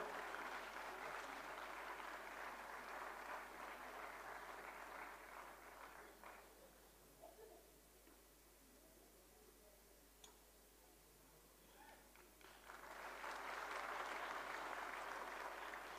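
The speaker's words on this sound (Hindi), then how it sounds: "जोरदार तालियां, जोरदार स्वागत।" Audience applause at a formal ceremony honouring a guest at the launch of the Pandit Madan Mohan Malaviya complete works, with Prime Minister Narendra Modi present: steady, distant-sounding clapping that dips into a lull, then swells again.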